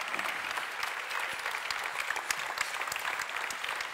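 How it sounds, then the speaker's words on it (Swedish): Steady applause from an audience at an award ceremony for chefs at a cooking competition semifinal in Helsingborg, moderately distant and even, with individual claps standing out from the dense wash. "Stor applåd."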